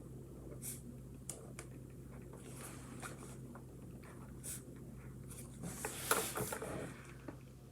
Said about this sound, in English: I'm gonna write in the blocks with my black marker